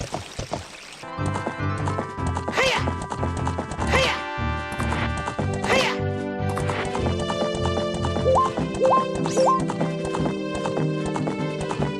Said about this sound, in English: the creators of the game basically give you a horse because you have to ride the horse